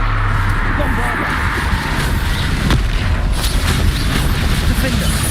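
A Bombarda blasting spell goes off in the Hogwarts Legacy video game, a loud broadband boom-like burst over a dense rumbling backdrop of game sound, with a few sharper transient cracks.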